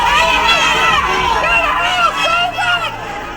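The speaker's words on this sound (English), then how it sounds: "As Susan Smith came to court this morning, an angry crowd was there to greet her" Angry crowd gathered outside a courthouse as a defendant arrives, a dense, loud mass of overlapping shouting voices and jeers sustained throughout, close and chaotic with no single voice standing out.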